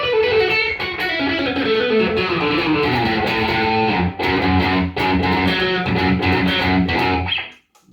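Electric guitar on the middle pickup position, played through effects pedals, a continuous stream of distorted chords and notes filling the whole stretch before cutting off at the end, close and alone.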